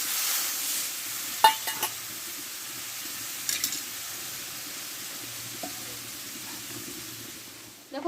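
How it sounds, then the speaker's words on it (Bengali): Chana dal fries in a pan with turmeric and roasted spice, giving a low sizzle broken by a few scraping stirs of a spoon against the pan, heard close and without talk. "এবার ছোলার ডালটা আমি দিয়ে দিয়েছি দেখো"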